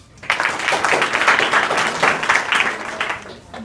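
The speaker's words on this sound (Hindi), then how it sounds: "ताली बजाओ अपने लिए।" Schoolchildren in a classroom at a school in Azamgarh clap for themselves, a burst of close, uneven clapping that starts abruptly and carries on at fairly steady strength.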